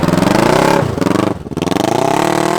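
A three-wheeler powered by a street-bike engine revs hard in sand dunes, a loud, close, buzzing high-rpm roar that dips briefly twice as the throttle drops, then climbs again, with no voices.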